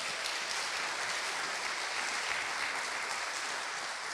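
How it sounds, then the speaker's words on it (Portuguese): A church congregation claps during an evening Portuguese-language service, a steady, dense wash of applause that stays even and moderately distant for the whole stretch. "Aplauda Ele bem forte hoje à noite."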